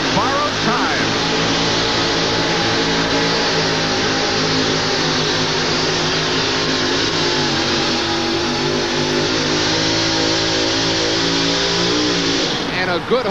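The monster truck Borrowed Time racing down a stadium track at a 1989 USHRA event in Anaheim, a loud sustained roaring engine with rising revs that stays steady the whole way, with an announcer talking over it.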